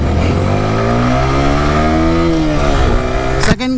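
A motorcycle, a modified bike, accelerates hard through second and third gear, its engine note climbing in pitch, dipping briefly at the shift, then rising again before an abrupt cut near the end; loud and close.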